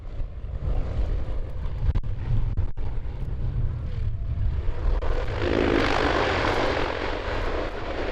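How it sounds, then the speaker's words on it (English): A Fairchild C-123 transport aircraft landing in a strong crosswind, its engines giving a steady, loud drone with a broad rushing roar that swells toward the end, and no voices. "this Fairchild C123 nearly suffers a wingtip strike after landing in strong crosswind conditions"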